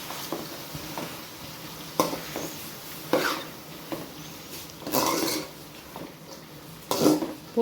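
Beans, carrot, capsicum and cauliflower stirred in a frying pan for chicken fried rice, with a few distinct scraping, clattering strokes of a spatula roughly every second over a faint background sizzle.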